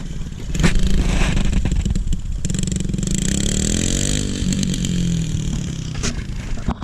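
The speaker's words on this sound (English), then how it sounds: "messing with the dirt bike" A dirt bike that is not running right revs repeatedly and raggedly nearby, its engine note rising and falling in loud bursts with brief sharp cracks between.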